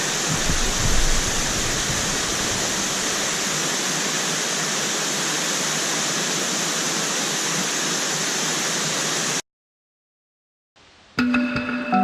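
A waterfall in Tasmania roars as a constant, loud rush of falling water for about nine seconds. It cuts to silence, then brief faint sounds follow.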